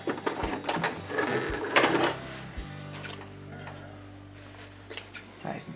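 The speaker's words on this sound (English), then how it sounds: "stitch up to where the pin is" A home sewing machine stitches a skirt waistband up to a pin in short, fairly quiet, close bursts of rapid mechanical clatter separated by pauses.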